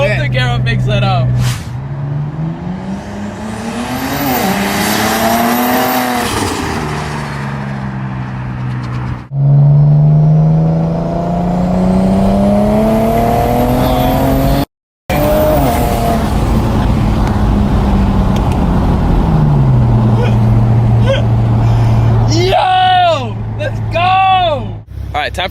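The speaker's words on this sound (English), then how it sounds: "time for me to hear this car for the first time from the outside. A single turbo 335" A BMW 335i with a single turbo revs up hard several times, its engine note climbing and falling in long sweeps, loud and close, with voices talking over parts of it.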